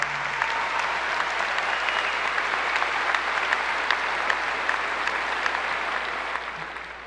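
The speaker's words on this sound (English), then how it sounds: "So please give another round of applause for those watching virtually" Steady, sustained applause fills a high school graduation ceremony, a large audience clapping evenly at moderate distance before the sound tapers off slightly at the end.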